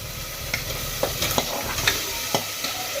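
Soaked chicken going into a hot pot of yogurt masala, a steady sizzle broken by several sharp stirring scrapes and clinks spaced through the moment.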